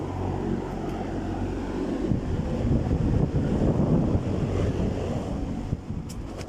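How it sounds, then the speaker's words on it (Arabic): Strong wind blows across a farm greenhouse with plastic sheeting, a loud continuous rush and rumble that surges in gusts and buffets the microphone, with no voices. "هواء قوي يطير البلاستيك من هون."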